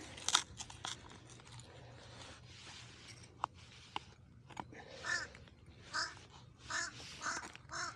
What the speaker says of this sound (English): That bird must be hungry.